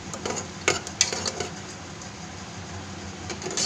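Tomatoes fry in oil for misal as a spoon stirs the pan, soft sizzling under irregular scrapes and clinks against the cookware, close by and without speech.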